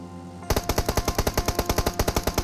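Rapid automatic gunfire in the video game PUBG, a loud close burst of evenly spaced shots firing continuously after a short quiet lead-in, with no talk.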